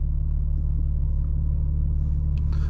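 Deep, steady rumble of a 2022 BMW M4 Competition coupe idling and building toward a launch-control start, heard from inside the cabin with a constant low drone and no clear rev spike.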